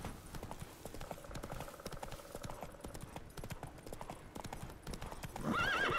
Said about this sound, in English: Giddy up. Oh, Roach